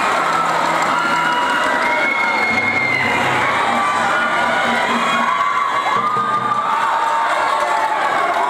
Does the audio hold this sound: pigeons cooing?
no